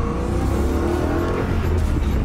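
Car with a 4.0-litre V8 making 420 hp accelerating, a deep, loud engine roar with rising revs heard from inside the cabin, steady and continuous without talk.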